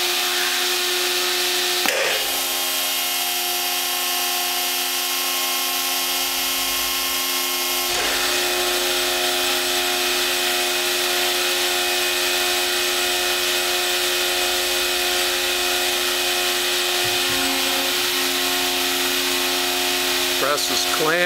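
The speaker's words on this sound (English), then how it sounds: "Press is clamped, going to full tonnage." A hydraulic press starts up and runs, a steady loud whine with tonal hum and a couple of sharp clunks as it clamps and builds to full tonnage, continuous throughout.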